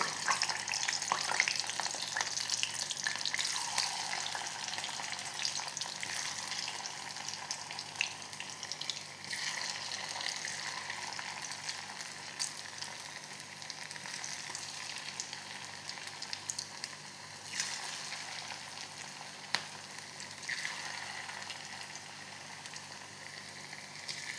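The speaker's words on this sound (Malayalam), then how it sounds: "ഞാൻ എണ്ണ ഒഴിച്ച് ചൂടായിട്ടുണ്ട്. ഞാൻ ചെറുങ്ങനെ പക്കാവട ഇതിൽ നുള്ളിയിടുന്നുണ്ട്" Pakkuvada dough is dropped in small pinches into hot oil, which sizzles and bubbles in a steady, continuous hiss at close range, with faint clicks now and then and no speech.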